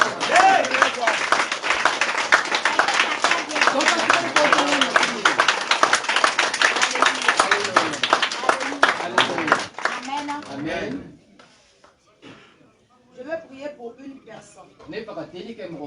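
Crowd applause and cheering at a church worship gathering, dense and sustained for about ten seconds before cutting off, followed by sparse quieter sounds and a few scattered claps.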